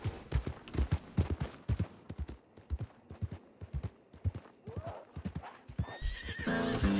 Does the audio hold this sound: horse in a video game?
yes